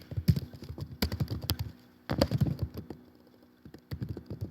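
Fast, furious typing on a computer keyboard, dense clusters of close key clicks in bursts with brief pauses between them, no talking.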